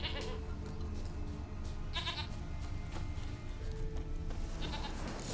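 Goat bleating in The Witcher video game, a few short wavering bleats heard over a steady background ambience, fairly faint, no speech.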